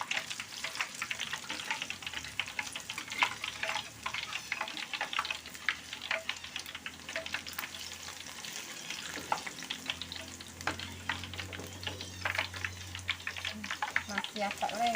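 Peyek crackers made with black soybeans fry in oil in a pan, giving a steady close crackling sizzle with occasional stirring and scraping throughout.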